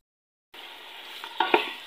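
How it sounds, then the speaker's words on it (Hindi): Onions and carrots for vegetable rice sizzle in a hot pan, the frying hiss starting abruptly after a short silence, with a couple of sharp clinks as the pan is stirred. "अब हमने इसमें गाजर शामिल किया, उसे भी 2-3 मिनट के लिए ही भूनना है"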